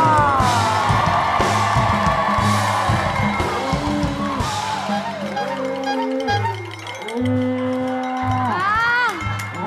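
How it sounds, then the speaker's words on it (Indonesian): Studio audience on the Indonesian TV comedy show Opera Van Java cheering, whooping and yelling to welcome Mpok Alpa, loud and continuous, mixed with music and shouting voices. "Tepuk tangan untuk Po"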